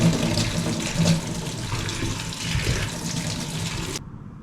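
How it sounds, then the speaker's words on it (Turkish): Kitchen tap water running over mushrooms being rinsed in a sink, a steady close splashing gush that cuts off abruptly near the end, with no voices. "Evet mantarları yıkadım, temizledim."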